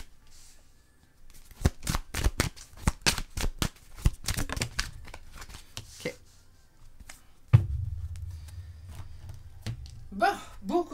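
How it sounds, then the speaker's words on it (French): Tarot cards being shuffled and drawn from the deck, a rapid series of crisp riffling slaps followed by softer card handling and sliding, close and fairly quiet with no talk over it. "Je vais sortir les 2 dernières cartes"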